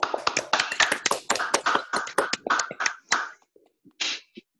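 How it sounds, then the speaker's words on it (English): A small audience claps after a conformal field theory talk, a brief scattered burst of handclaps that thins to a few isolated claps at the end. "Let's try to applaud."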